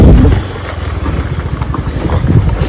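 Scooter ridden along a road in Goa, a steady low engine drone with rumbling wind buffeting throughout, close and fairly loud, no voices.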